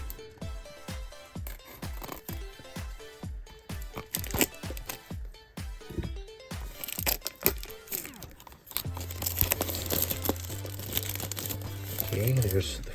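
Unboxing a packaged Kaido House Honda NSX model car: close crinkling and rustling of plastic and cardboard, tearing and handling sounds in irregular bursts, growing busier toward the end.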